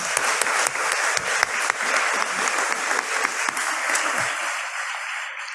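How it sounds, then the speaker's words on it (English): Sustained applause from an audience at a Nashville awards celebration, steady and dense clapping filling the room for several seconds, with a few louder individual claps standing out before it thins slightly at the end. "let's give them a round of applause"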